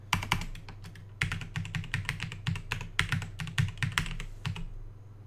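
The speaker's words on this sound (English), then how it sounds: "Then type in a super secret passcode." Fingers tapping out a passcode on a computer keyboard, two quick runs of crisp close keystrokes separated by a short pause, with no talking.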